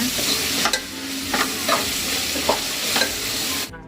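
Coriander and mint are stirred into sizzling chicken biryani masala in a pan. Steady frying hiss runs under a series of sharp spoon scrapes and clinks, spaced roughly half a second to a second apart, close and fairly loud, with no talking.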